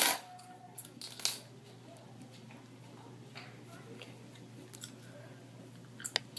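Scissors snip sewing thread up close while a closure is sewn onto a U-part wig, with a couple of quick sharp cuts early on followed by faint handling ticks in a quiet room.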